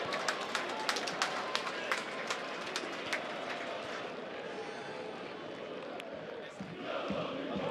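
Football supporters in a stadium at a Croatian league match between Osijek and Istra, a dense roar of crowd noise filling the whole stretch with sharp claps and shouts popping out, and a commentator talking over it.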